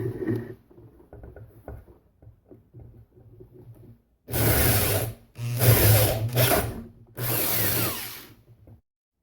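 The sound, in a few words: power drill drilling small holes with 2mm and 5/16 bits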